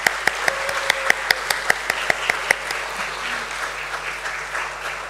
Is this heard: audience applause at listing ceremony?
yes